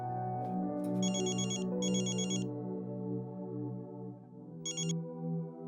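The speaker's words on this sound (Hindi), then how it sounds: "रोशनी का फोन है।" A telephone rings in short bursts, two quick trills then a pause and another, over a steady background hum of music.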